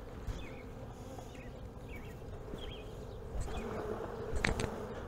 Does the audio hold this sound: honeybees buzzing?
yes